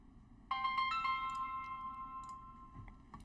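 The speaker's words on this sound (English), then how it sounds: "my phone's ringing" A mobile phone rings nearby with a bright electronic ringtone: a sudden sustained melodic tone with short repeating blips over a quiet room hum, continuing to the end.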